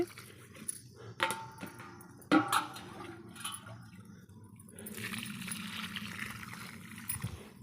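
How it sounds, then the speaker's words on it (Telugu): Water poured onto a plant in a home backyard garden, with splashy bursts and a steady trickle that is fairly faint, broken by a few knocks and clatters. "ఫుల్గా వాటర్ పోసేయాలి"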